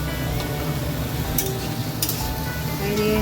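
Onions sizzling in hot oil in a pan with whole spices and a bay leaf, a steady dense crackle with a few sharper pops and light stirring clicks, close by and with no talk.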